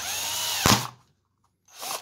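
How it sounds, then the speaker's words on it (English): A power drill with a step drill bit whines steadily up close, ends in a sharp crack as the workpiece shatters, then cuts out to silence before spinning up again briefly. "what I've got here is just a step drill"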